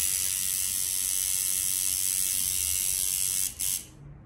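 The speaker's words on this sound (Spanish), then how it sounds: "Ya me están dando ganas de tatuar con esta máquina de sombras y todo" Traditional coil tattoo machine set up for shading, buzzing steadily and loudly at close range with no talk, then cutting out briefly near the end before a softer tail.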